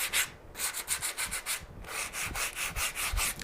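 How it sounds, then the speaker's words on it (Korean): Sandpaper rubs back and forth along the grain of a small wooden cutting board in quick, even strokes, about a dozen scratchy passes up close with no talking. "나뭇결 방향으로 사포를 하겠습니다"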